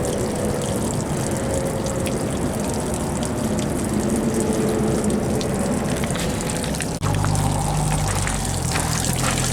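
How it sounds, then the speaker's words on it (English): Water pouring steadily out of an RV tank through drilled holes and splashing down a wall, a loud continuous gushing wash that grows heavier and deeper near the end. "All that water is coming out of that tank."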